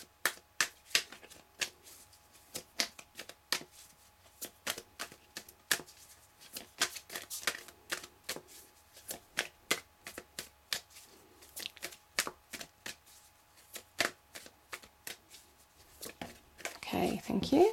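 Tarot cards are shuffled by hand in a quiet room, giving a long run of soft, crisp riffles and taps in an uneven rhythm, with a louder rustle at the end.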